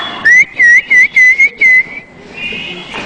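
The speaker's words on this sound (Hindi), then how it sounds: "नहीं वो सीटी सही बजा रही है" A woman whistles into a microphone on a television music show stage, giving a few short bright tonal bursts in a quick series, loud and close, followed by a fainter airy stretch.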